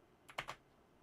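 A few quick, crisp keystrokes on a loud computer keyboard, three sharp clicks close together and then quiet.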